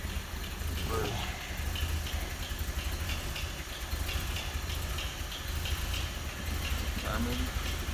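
A Packard car engine idling on its own, a steady low rumble that runs evenly the whole time, close by and fairly loud, with brief background noises now and then.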